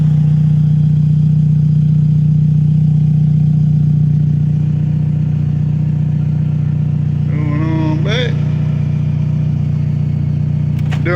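A car engine idles steadily and loudly close by as it is eased backward up onto ramps, with a brief rising whine or squeal near the end and a sharp clack at the finish.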